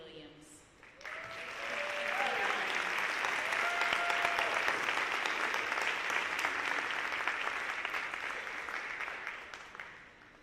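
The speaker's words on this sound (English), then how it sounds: "Give them a round of applause, guys." A school audience at a senior honor night breaks into sustained applause that swells quickly, holds steady for several seconds and tapers off near the end, filling the hall at moderate distance.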